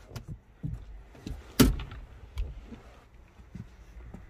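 Driver's door on a 2019 Toyota Prius+ 1.8 hybrid as the driver gets out: soft shuffling and movement followed by a single solid door thud, close and moderately loud, then quieter rustling.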